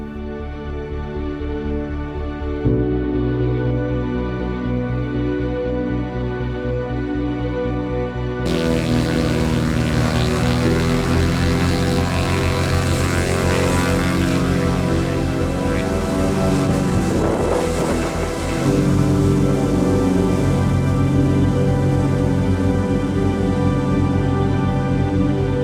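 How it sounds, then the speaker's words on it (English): A Cessna 172 XP makes a short field takeoff from a narrow, short gravel bar, its engine droning loud and steady, then surging to a harsher full-power roar partway through and holding there. "This is a perfect short field takeoff on a narrow and short gravel bar."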